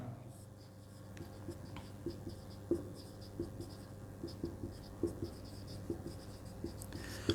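Marker or chalk taps out short strokes on a board during a Hindi-medium physics lesson on thermal properties of substances: quiet, rhythmic ticks and scratches repeating every half second or so over a low room hum.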